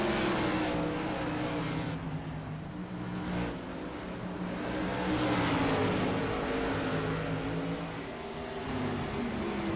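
Race cars in a modded NASCAR video game drone together in a dense pack, with overlapping engines rising and falling as they pass, loud and continuous, and no voices over them.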